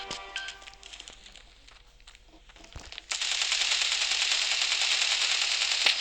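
Rapid automatic gunfire in Standoff 2 erupts after a brief lull, a loud continuous burst of Kalashnikov-style shots following quieter clattering and scattered shots.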